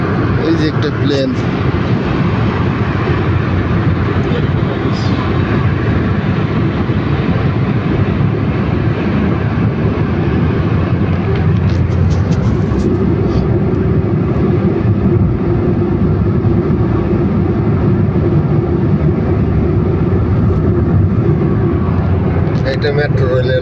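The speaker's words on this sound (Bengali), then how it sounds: "এই যে একটা প্লেন" An airplane at Riyadh King Khalid International Airport, Saudi Arabia, gives a loud, continuous engine roar that holds steady throughout. Voices are heard over it.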